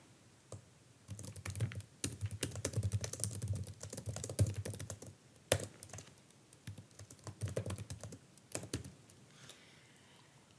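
Typing on a computer keyboard while entering a title in a Word document, a close run of quick clicking keystrokes with brief pauses, quiet and with no talk over it.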